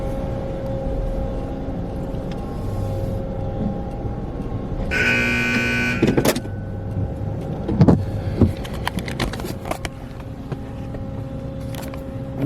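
AUTEC EV-1 Turbo in-bay automatic car wash running at Crystal Clean Wash in Mesquite, Texas, a constant mechanical hum and whine with a burst of high-pressure spray, followed by clunks and knocks, loud and close.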